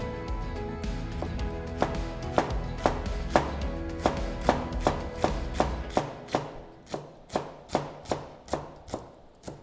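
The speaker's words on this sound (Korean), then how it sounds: "양파와 나머지 채소들도 최대한 아주 얇게 썰어주시면 되겠습니다" A knife chops steadily through thinly sliced onion and other vegetables on a board, the cuts close and crisp at about two to three strokes per second and growing more distinct toward the end.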